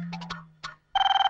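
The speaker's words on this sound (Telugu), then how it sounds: "ఫోన్ మా ఇంటి నుంచి అనుకుంటా" A telephone rings with a rapid pulsing electronic trill that starts abruptly after a few faint tones, near and clear.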